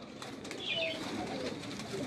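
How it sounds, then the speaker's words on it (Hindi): A large pigeon held in two hands flaps its wings in short, soft flurries, faint and close, with a hint of low cooing in a quiet space. "इसको 2 हाथों में पकड़ना पड़ रहा है, इतना बड़ा कबूतर है जी ये"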